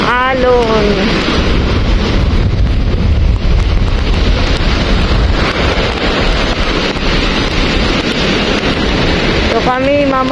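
Strong ocean waves at the beach on Boracay in heavy wind, a loud, continuous wash of surf mixed with heavy wind buffeting the microphone, and a voice speaking briefly at the start and end.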